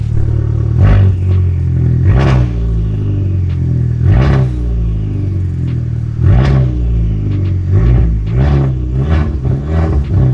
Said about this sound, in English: that Kala's downpipe sounds good